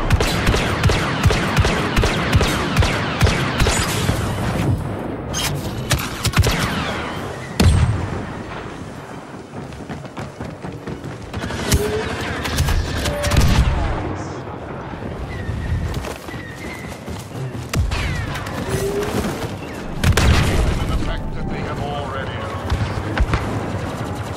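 Rapid bursts of blaster gunfire in Star Wars Battlefront 2 Heroes vs Villains gameplay, loud and repeated across the stretch amid game effects, with someone talking over it.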